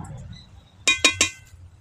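A lid set down over a pot of vegetarian cabbage in a home kitchen, giving three quick bright metallic clinks in succession, close and clear over a faint low hum.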